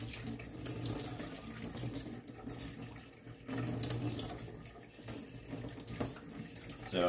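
Cold tap water runs steadily into a sink while blueberry and raspberry seeds are rinsed, a continuous close splashing stream with slight shifts in flow and no talking.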